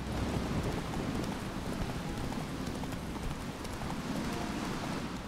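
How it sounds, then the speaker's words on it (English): Steady clip-clopping of horse hooves on a causeway in the video game The Witcher 3, over a constant hiss of rain-like noise, loud and continuous with no pauses. "I can summon the horse out on the causeway."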